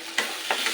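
Ginger garlic paste sautés in a hot pan with a close, even sizzle, cut by two or three quick scraping strokes of a spatula in under a second.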